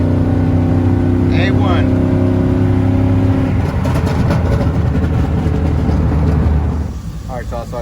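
A Chevy Silverado truck engine fitted with an oil catch can, a loud close drone rising and then easing off partway through, with someone talking loudly over it.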